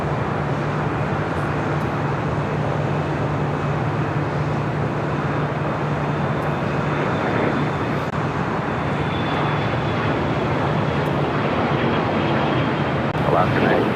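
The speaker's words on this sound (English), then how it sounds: "Next takeoff here on the south side is Asiana Cargo, the Queen, heading to SFO." An Asiana Cargo Boeing 747 takes off from the south side at Los Angeles International Airport, a loud, steady engine roar holding for the whole stretch with a faint drone layered underneath.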